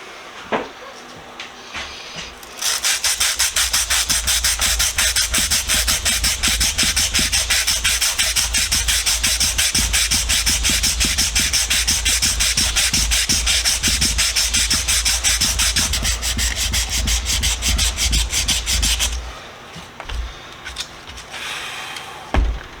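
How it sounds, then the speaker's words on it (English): Loud, continuous rapid sanding rasps back and forth on a piece of a Craftsman combination vise (No. 5241) for most of the stretch, close by, then stops abruptly near the end. "That's it, I'm done sanding"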